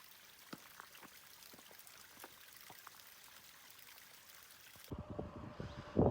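Water trickles and pours steadily in a temperate rainforest in the Pacific Northwest, a faint, even babble with small splashes, ending in a louder burst of handling or rustling noise.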